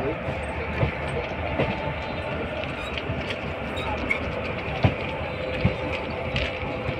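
Train rolling into Sahibabad station on the Delhi–Meerut route, a steady broadband rumble with occasional rail clicks and clunks, heard from aboard, with faint speech in the background.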